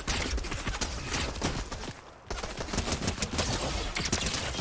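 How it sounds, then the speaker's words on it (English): Rapid bursts of fully automatic pistol fire in the Fortnite video game, a dense continuous rattle of shots up close with a brief pause midway before the firing resumes. "you can actually hold down your fire, and it's a fully automatic pistol"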